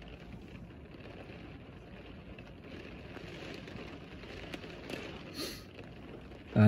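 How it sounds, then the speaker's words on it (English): Rain patters on the roof of a parked car in a wooded car park at Stratton Wood, Wiltshire, heard from inside as a soft, steady hiss of drops with no voices. "we'll just listen to the rain on the roof"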